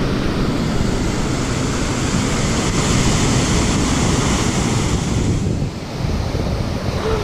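Shower water runs in a steady, loud broadband hiss that fills the space, dipping slightly near the end.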